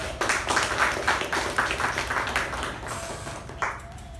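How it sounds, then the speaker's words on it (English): Audience at a Toastmasters club meeting applauding Toastmaster Shiva: a steady wash of many hands clapping at moderate level, tapering slightly before a brief final burst. "a big round of applause for Toastmaster Shiva"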